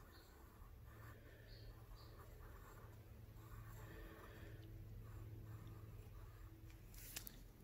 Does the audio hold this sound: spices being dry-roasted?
no